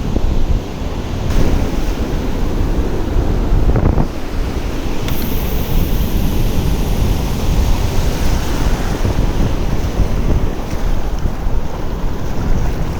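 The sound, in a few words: wind blowing at the sea shore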